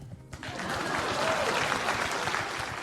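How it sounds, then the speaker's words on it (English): Many hands clap together in a steady, fairly loud burst of applause that begins after a short quiet moment and keeps going without a break. "Whenever somebody gifts 5 subs or more, everybody must clap."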